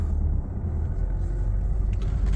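A Peugeot 2008 facelift Allure with the 1.6 BlueHDi diesel drives along a road, giving a steady, close, low engine and road rumble throughout.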